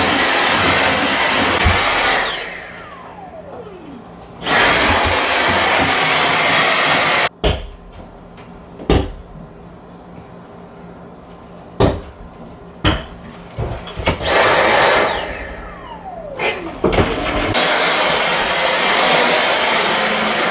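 A vacuum cleaner sucks up cobwebs around a house, its loud steady roar switching off and on twice, with sharp knocks and bumps from the nozzle in the quieter gap between runs.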